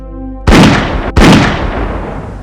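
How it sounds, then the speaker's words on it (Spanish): Two loud, sharp gunshots ring out about half a second apart in a Spanish-language zombie apocalypse audio story, each a sudden blast with a brief echoing tail. "2 disparos provenientes de detrás de nosotros me hicieron volver a abrirlos"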